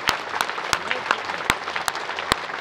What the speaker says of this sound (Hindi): ये सतगुरु जी इस तालियों को एक बार सुने, ध्वनि को सुने